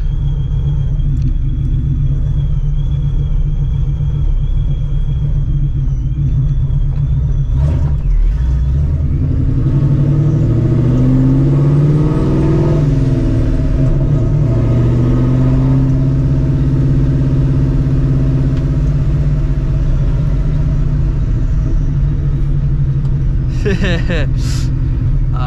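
A supercharged 2004 Mustang GT driven hard, its blower whining over a deep, loud exhaust rumble that swells and rises as it accelerates, with occasional creaks from the car and a brief burst near the end.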